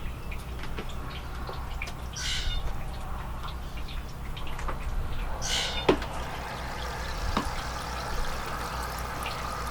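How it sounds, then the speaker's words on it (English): An aerator in a minnow tank bubbles water continuously, a soft steady fizzing and trickling with a few faint splashes and drips, close by and without talk. "So we'll plug in the aerator."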